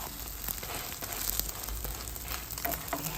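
An egg fries in a pan with a steady, dense sizzle that fills the whole stretch at an even, fairly loud level, with small crackles popping through.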